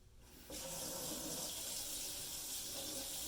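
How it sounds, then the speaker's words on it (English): A home kitchen tap turned on for warm water, a steady close hiss of running water pouring into a sink that starts abruptly and continues without talk. "actually start the tap because we're going to need some warm water"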